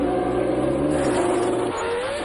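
A 1997 Jordan Formula 1 car howls at high revs, its pitch sweeping through gear changes, loud and continuous, with the note dropping slightly toward the end as it moves on the circuit.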